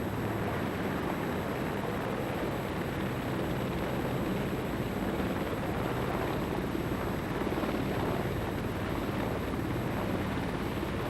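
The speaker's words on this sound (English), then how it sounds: "the massive Merlin as it made its first deck landing in public on HMS Grafton" Royal Navy Merlin helicopter landing on the deck of HMS Grafton, a loud, steady, close rotor and turbine roar with broadband wash that holds unbroken throughout, no voices.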